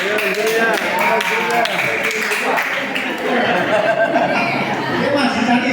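A church congregation at a Sunday service pats one another's backs, making scattered soft taps buried under lively crowd chatter, chuckles and laughter.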